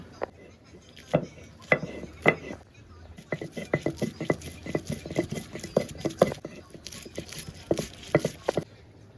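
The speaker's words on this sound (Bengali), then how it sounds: "প্রথমে আদা আর রসুনটা বেটে নেব।" Ginger and garlic ground into a paste for chicken curry: a close, rhythmic run of scraping, knocking strokes that pause briefly and then resume.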